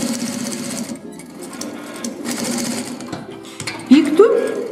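A sewing machine stitches the zipper seam on women's trousers, a close steady mechanical whir with short pauses and restarts, while someone speaks over it.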